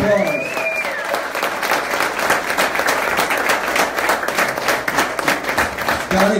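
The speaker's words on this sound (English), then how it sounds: "And the one that fights for me is right here, Donna Cox. Give her a round of applause" Audience applause fills the room for Donna Cox at a political symposium, dense steady clapping from a crowd lasting several seconds, with a voice briefly heard at the start.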